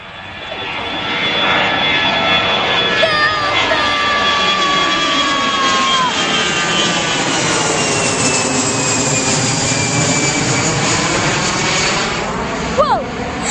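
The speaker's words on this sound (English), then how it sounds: "Take off! Delta takeoff." A Delta jet airliner takes off at Reagan National Airport, its loud, steady engine roar sustained throughout, with a rising whine and voices speaking nearby.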